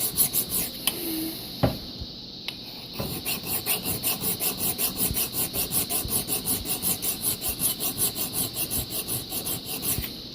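A hand file sharpens an axe blade, rasping in a steady back-and-forth rhythm of even strokes, close and loud, after a few scattered knocks at the start.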